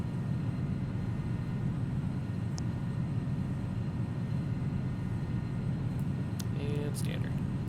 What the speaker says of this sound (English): This airplane, it climbs so fast.